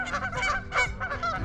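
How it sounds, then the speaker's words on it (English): Geese on Lake Natoma honk repeatedly in an irregular chorus, moderately close, with no one talking. "You can hear the geese in the background"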